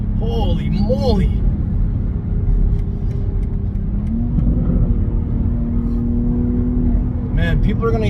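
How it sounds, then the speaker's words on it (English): Deep exhaust rumble and burbling crackles from a 2021 BMW X3 M Competition in Black Sapphire Metallic, loud and close throughout, with pops near the start and end while a person talks over it. "people are gonna hear those burbles and get scared."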